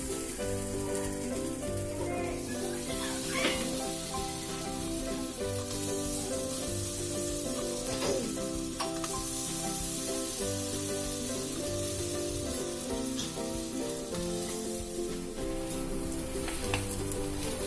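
Spiced bread slices roast in a hot pan, giving a steady close sizzle and crackle with small pops and occasional scraping touches throughout.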